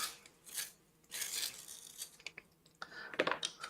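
A coloured pencil is turned in a handheld sharpener, making several short rasping bursts of blade shaving wood and pigment, close and fairly loud, with brief pauses and small clicks between them.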